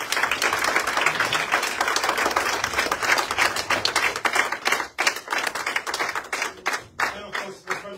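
An audience claps and applauds at a Paris event, a dense patter of many hands that runs steadily, then thins into scattered separate claps near the end.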